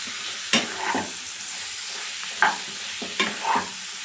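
Chicken masala frying and sizzling in a pan while a spoon stirs it, with a steady hiss under a few scraping strokes of the utensil.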